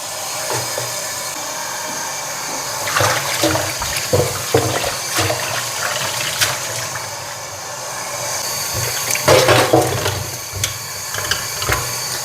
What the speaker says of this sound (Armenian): Հոսով ջրի տակ լավ լվանում եմ։